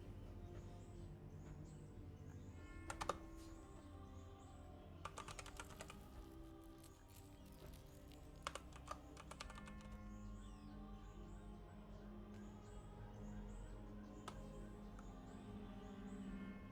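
Quiet typing on a computer keyboard, soft continuous key clicks with a few brief louder bursts, heard alone over a low background hum.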